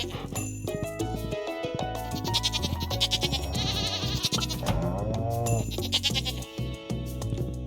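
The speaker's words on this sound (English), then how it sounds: "those goats are really happy today. They're making so much noise" Goats in the Stardew Valley farming game bleat repeatedly, overlapping wavering cries over background game music with occasional tinkling chimes, the calls loud and insistent.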